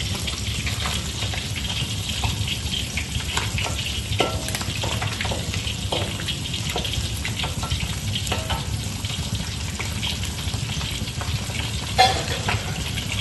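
Fish frying in oil: a loud, close, continuous sizzle and bubbling that runs unbroken throughout, with one brief sharper clatter near the end.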